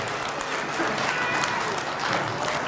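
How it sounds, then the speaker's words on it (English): An audience at a hand drum contest in Red Deer applauds a contestant with steady, dense clapping, mixed with crowd voices throughout. "Give him a round of applause."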